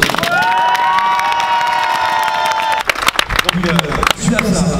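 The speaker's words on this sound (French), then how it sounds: "je pense qu'on peut tous applaudir" A crowd of striking railway and hospital workers cheers and applauds loudly at a rally, with shouts and whistling tones over a steady roar of clapping while a voice speaks through it.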